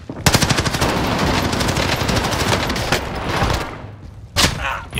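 Video game gunfire, loud rapid automatic bursts in a long continuous stream, then a brief pause before another short burst, with no talking.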